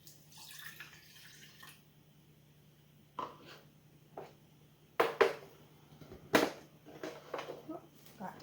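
A cup of water poured into a pot while making chai with whole cloves and cinnamon stick, splashing in uneven bursts with clinks of kitchenware and a steady low hum underneath.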